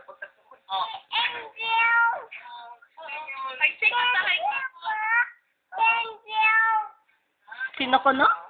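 A cat meows repeatedly, close and fairly loud, in a run of drawn-out plaintive cries separated by short pauses, with no other sound.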